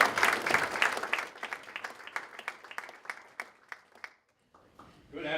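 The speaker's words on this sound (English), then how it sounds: "Round of applause" An audience at a business chamber lunch in Penfield applauds the town supervisor: a burst of loud clapping that thins to scattered claps and stops, then a voice begins talking.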